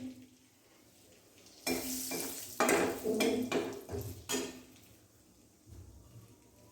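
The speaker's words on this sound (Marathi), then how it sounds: "तेलात तिखट टाकण्याचं कारण काय की तिखटाचा थोडासा रंग बदलला पाहिजे आणि तिखट खरपूस झालं पाहिजे" Chili powder frying in hot oil while being stirred, with loud scraping and sizzling bursts from about 1.7 to 4.5 seconds, then fading to a quieter simmer, close and without talk.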